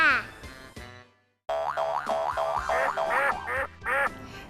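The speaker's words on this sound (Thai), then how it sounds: "เป็ดค่ะ" Cartoon duck from a children's story gives a series of bright, bouncy quacks after a brief pause, sounding close and fairly loud as several quacks repeat in quick succession.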